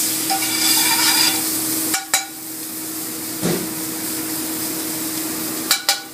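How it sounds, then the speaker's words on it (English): Shallots sautéing in whole butter in a pan on the fire, a steady low sizzle running throughout, broken by a few sharp clinks of a utensil against the pan near the middle and end. "Get your shallots nice and sauteed. Get that on the fire."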